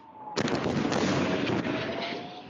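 Loud, sustained rumbling blast from artillery fire in southern Lebanon, starting abruptly after a brief quiet moment and rolling on with dense crackle and boom, with no voices heard.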